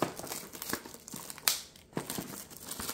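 Cardboard and plastic wrap crinkle and rip as a Topps X Julio Rodríguez baseball card box is torn open, with short uneven bursts of tearing and crumpling close by and no voices.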